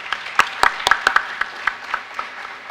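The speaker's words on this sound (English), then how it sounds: "Please give him a round of applause." A small audience at a Kentucky college signing-day event gives scattered applause, made of a handful of sharp separate claps at close range that thin out over a few seconds.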